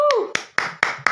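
A single person clapping on a podcast set, four or five sharp close hand claps in an even rhythm following a brief voice.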